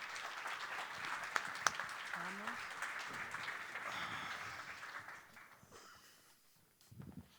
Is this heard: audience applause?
yes